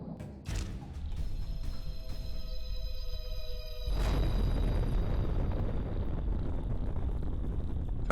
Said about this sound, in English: we're going to set off a nuke and destroy this whole valley